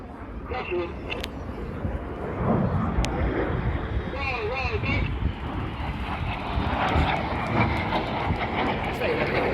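RAF Red Arrows jets fly the boomerang manoeuvre at an air festival, a broad distant roar of engines rising and holding under a commentator's voice.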